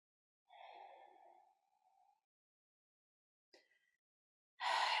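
Slow yoga breathing, a long audible sighing exhale followed by quiet breaths, then a short sharp intake and a louder breath rushing in at the end, close and otherwise silent.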